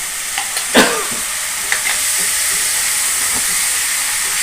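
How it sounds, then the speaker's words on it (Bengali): Spice masala frying in a home kitchen pan as a splash of water hits it, giving a sharp sizzling burst followed by steady steamy hissing that carries on alone, with a few stirring scrapes. "এবার এই মশলা জায়গাটা ধুয়ে দিয়ে দেবো একটু জল, অল্প যাতে পরিমাণে দেবো।"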